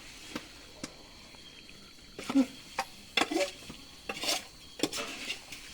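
Mutton curry stirred in a pot over the fire, a spoon scraping and clinking against the metal in irregular bursts, fairly close, with faint background noise.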